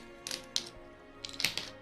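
Cat tiles for the Calico board game being shuffled, heard as a few quick bursts of light clicking and tapping close by, with short pauses between them and no talk.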